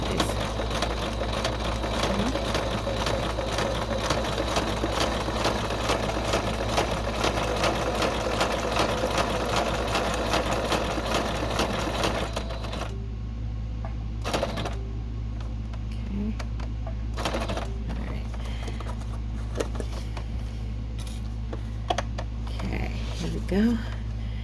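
A sewing machine running steadily as it stitches a zigzag line on a five-pocket basket weave pocket, a continuous close whir that stops around halfway, followed by quieter handling sounds.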